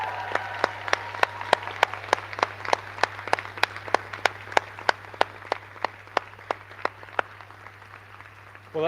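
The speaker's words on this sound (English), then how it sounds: "Give them a huge cheer and a round of applause" Audience at a university graduation ceremony for health and social care professions applauding and cheering, with sharp rhythmic claps ringing out over a steady low hum, near and sustained before trailing off.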